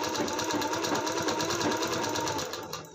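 A sewing machine stitching piping onto a long-sleeved blouse, a loud, continuous rapid whir and rattle of the needle running close up, slowing at the very end, with no talking.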